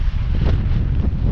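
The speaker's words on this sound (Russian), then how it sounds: "Ой, какое солнышко, но ветер." Wind on a street in Magadan in winter, gusting hard against the microphone as a loud, steady low rumble with no voices.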